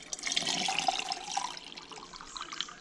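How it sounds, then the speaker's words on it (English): Tea pours into a homemade kombucha vessel, a close, bubbling liquid stream that runs steadily then trickles lighter toward the end. "And then I'm going to pour a little bit of tea in there."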